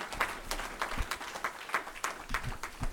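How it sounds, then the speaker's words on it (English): An audience at a Pan-Africanism event applauds, with distinct individual claps over a fairly quiet hall, moderately close and without speech. "Let's give our family a round of applause."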